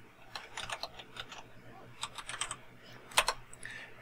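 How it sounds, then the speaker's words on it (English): Computer keys are pressed in quick bursts of light clicks and taps, close and fairly quiet, with short pauses between clusters while using Excel keyboard shortcuts. "If you're on the cell, hit the F2 key."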